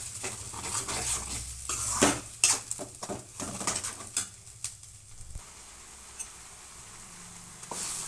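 Spoon scraping and clattering against a pan while baby potato gravy curry masala is stirred and fried, with irregular metallic knocks and soft sizzling that thin out toward the end; birds faintly audible.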